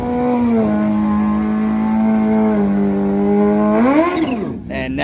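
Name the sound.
turbocharged bagger motorcycle accelerating at full throttle on racetrack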